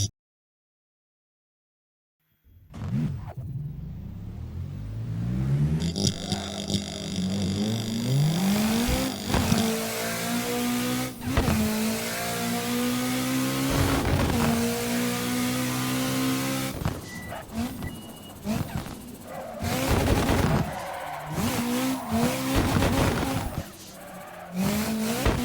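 In a racing video game, a drift car's engine revs hard while its tires squeal through long slides, the pitch climbing and dropping with each shift, loud and continuous after a brief silent start.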